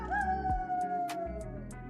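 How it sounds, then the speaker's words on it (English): A lone wolf lets out a long, sustained howl that slowly falls in pitch, heard at a moderate distance with faint clicks and knocks around it. "You could have the classic wolves off in the distance that could be heard howling."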